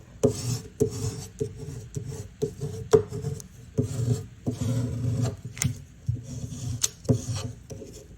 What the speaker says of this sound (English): Then turn it around and give it another good scrape.